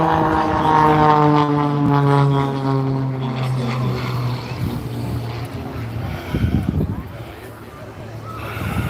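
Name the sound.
display aircraft flying at Ayr air show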